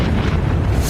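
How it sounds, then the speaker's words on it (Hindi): A loud, sustained explosion from an Israeli strike on the Al-Borz industrial town: one continuous deep, rumbling blast that fills the whole second with no talk. "एक तेज धमाका होता है और पूरे इलाके में आग लग जाती है।"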